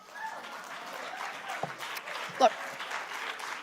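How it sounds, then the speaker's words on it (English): Audience at a childcare policy conference speech applauding, a steady wash of clapping throughout with a brief voice cutting in near the end. "And you can applaud that."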